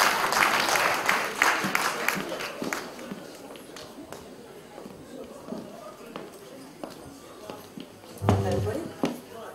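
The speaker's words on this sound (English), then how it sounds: "Let's give her a round of applause." An audience at a live music show claps for a singer taking the stage, with loose applause that thins out into scattered claps, a mix of crowd noise and voices, and a louder thump near the end.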